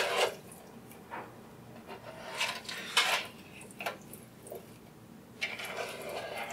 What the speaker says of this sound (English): And then I'm going to stir it one more time.